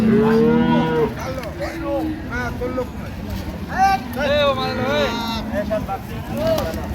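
Cattle at a busy rural livestock market in Ambari, Dinajpur, mooing loudly and repeatedly, close by, while people talk over the lowing.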